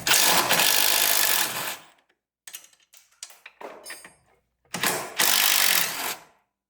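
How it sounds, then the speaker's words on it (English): A 10mm wrench working a bolt on a Jeep JL/JT during a steering boost kit install gives two loud, close bursts of rapid mechanical rasping, separated by quieter clicks and small knocks. "Taking the 10mm wrench to that."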